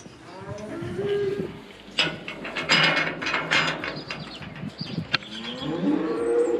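Dairy cows moo in a farm yard on a small Irish dairy farm, several low drawn-out calls near and loud, mixed with metallic clanking and rattling of yard equipment.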